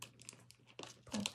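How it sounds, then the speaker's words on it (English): Vinyl backing peeled off a container gives short crinkling, tearing bursts, quiet and close, with a louder rip near the end. "so let's peel this back"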